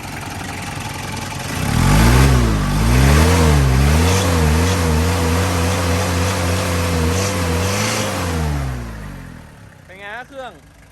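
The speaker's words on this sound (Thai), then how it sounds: "เครื่องนิ่งมากครับ เป็นเครื่องปั๊มสายแท้ๆแต่ขี่หลังถนนแทบไม่ได้ยินเสียงเลยครับ" A 2005 Mazda Fighter pickup's engine revs up and holds a steady, smooth mid-pitched hum for several seconds before dropping away, heard close with someone talking over it.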